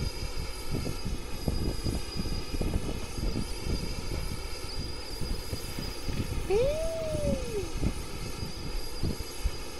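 A video game airplane engine drones steadily throughout, with a sweeping whistle-like tone rising and falling partway through, loud and alone without talk.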